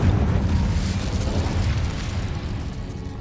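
An Incendio fire spell cast in the Hogwarts Legacy video game: a loud, close, roaring burst of flame with a heavy, rumbling low end that holds steady for about three seconds and eases off slightly at the end, with no voices.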